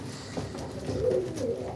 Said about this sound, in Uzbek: Hammasi uchyapti akalar, hozir shu kaptarlar hammasi uchyapti.